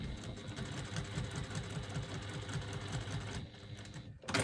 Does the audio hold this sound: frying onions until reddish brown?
no